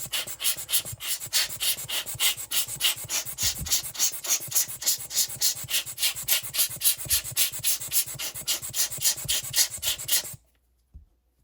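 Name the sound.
hand air blower cleaning AirPods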